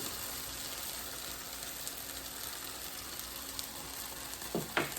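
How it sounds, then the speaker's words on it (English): Onions and garlic sauté in a pan for a meatball sub sauce, making a steady, soft sizzle that runs evenly throughout, with a brief clatter of stirring near the end. "I'm going to saute these onions and garlic for about"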